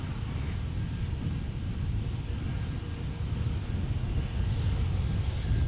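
An American A321 airliner passes during plane spotting in San Diego, a quiet steady engine rumble under light wind noise.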